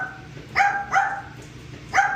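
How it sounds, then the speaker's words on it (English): A dog at a dog grooming spot barks three times in short, loud, close yaps with an uneven rhythm, with no talk over it. "He has never barked at me before, and yesterday he started barking like this at me."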